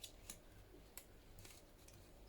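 Scissors trim excess envelope paper during journal crafting, making a few faint, crisp snips spaced irregularly with quiet pauses between them.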